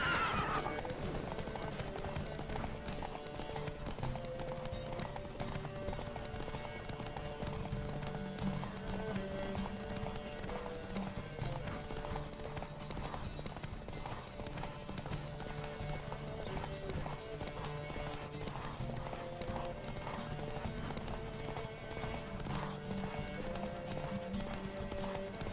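A horse gallops in The Witcher 3 with rhythmic clip-clop hoofbeats and occasional whinnies. The hooves run steadily under a continuous game soundtrack at moderate loudness.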